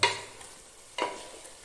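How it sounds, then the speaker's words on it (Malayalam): Biryani stirred in a pot: two scraping strokes, one at the start and another about a second later, close and fairly quiet with a soft sizzle between them. "അതുകൊണ്ട് ഒന്ന് ഇളക്കിയിടുക"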